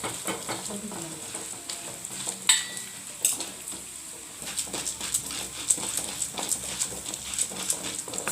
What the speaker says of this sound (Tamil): இப்போ மிளகு, சீரகம், கடலை பருப்பு, உளுந்து பருப்பு நல்லா ஃப்ரை பண்ணிக்கோங்க, கோல்டன் ஃப்ரையாக